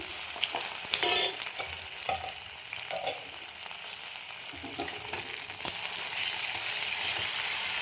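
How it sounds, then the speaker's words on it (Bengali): Gobindobhog rice frying and being stirred with potatoes in a pan for a vegetarian Bengali dish, a steady sizzle broken by scraping spatula strokes and a brief louder clatter near the start, no talk. "একটু গোবিন্দভোগ চাল দিয়ে দিলাম"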